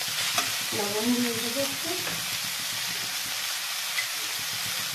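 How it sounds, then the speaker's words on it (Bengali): Chicken frying in a pan for homemade chicken rolls, a steady broad sizzle with a brief stirring scrape early on, close and even, with someone speaking briefly over it. "ভালো করে এটা ভেজে নেব"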